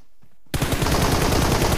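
Gunfire in the mobile battle royale game PUBG Mobile, a rapid automatic burst bursting in after brief quiet, loud and continuous with a steady rattling rhythm to the end.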